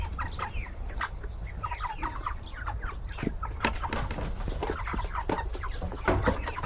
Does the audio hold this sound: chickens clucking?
yes